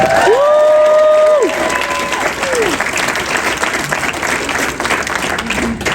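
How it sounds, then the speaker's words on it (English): A crowd at an annual arts gala bursts into a loud round of applause, with whoops and a high whistled cheer near the start, then settles into steady, dense clapping that gradually thins. "Let's give a round of applause for Marion Cultural Alliance, please."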